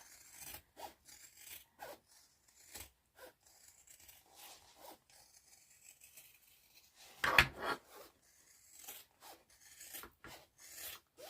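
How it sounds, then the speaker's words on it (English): Scissors snip through fabric while a seam allowance is trimmed, a string of soft, close rasping cuts in uneven rhythm with one louder crunch midway. "I'm just going to trim the seam allowance. I'm taking about half off."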